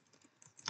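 Faint, quick keystrokes on a computer keyboard as an SQL query is typed, a few soft clicks ending in one sharper tap.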